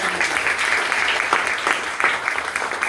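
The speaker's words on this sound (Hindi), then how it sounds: "जोरदार ताली।" An audience at a marketing company gathering claps loudly and continuously, a thick burst of applause with faint voices underneath.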